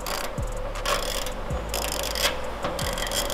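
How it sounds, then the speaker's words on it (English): Harbor Freight ratchet being worked back and forth, a loud close buzzing run of fine clicks with periodic swings of the handle, no talk. "this is a Harbor Freight ratchet"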